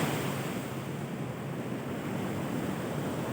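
Strong sea waves roll at Bucana, Nasugbu, Batangas, a loud, continuous roar of surf mixed with wind buffeting the microphone.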